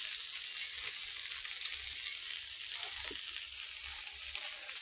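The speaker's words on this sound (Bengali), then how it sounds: "একটু ভাজা ভাজা চচ্চড়ি মতো করছি আর কি" A vegetable chorchori of green banana and eggplant fries in a pan, giving an even, continuous sizzle at moderate volume with a few soft stirring scrapes and no voices.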